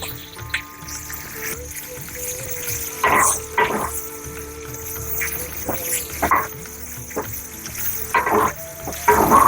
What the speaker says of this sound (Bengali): এবার এটাও তো বেশ অনেকক্ষণ সময় নিয়ে ভালো করে ভাজতে হবে হ্যাঁ বেগুন ভালো করে ভাজা না হলে ভালো লাগবে না